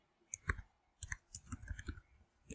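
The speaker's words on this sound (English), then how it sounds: "see how I'm clicking this plus button to make subcategories" Computer mouse clicks while making subcategories in a Google Docs document, a handful of sharp, close clicks in small clusters with short pauses between them.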